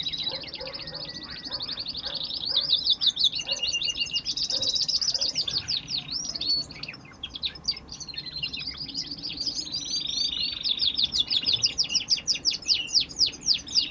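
A red mosaic agate canary sings a long, continuous song of rapid high trills and chirps. A few soft quacking fowl sounds come from the background, with low room noise underneath.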